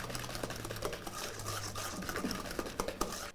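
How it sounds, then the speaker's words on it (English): Whisk beating egg yolks and sugar in a bowl for lemon curd, a quiet, rapid, continuous scraping and tapping with a faint low hum underneath. "So I'm going to whisk these together very well."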